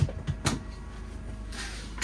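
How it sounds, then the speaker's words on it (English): A soft-close drawer in a 2025 Airstream Atlas Tommy Bahama E1 package slides and settles shut, with a few light knocks early on and a muffled, fading rustle toward the end, fairly quiet and close. "You've got a nice size drawer there with soft close."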